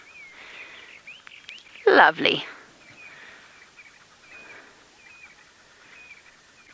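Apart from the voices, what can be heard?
brown-crowned tchagra bird call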